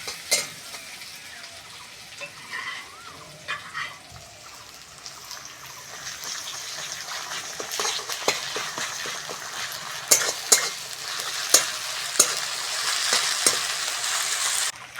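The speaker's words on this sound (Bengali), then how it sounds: "পেঁয়াজটা হালকা ভেজে নিয়েছি। এবার আদা রসুন বাটাটা দিয়ে দেবো।" Ginger garlic paste sizzles and fries with lightly browned onions in a pan for a fish curry, a steady crackle broken by scraping stirs and sharp spatter bursts that grow louder toward the end, with no talking.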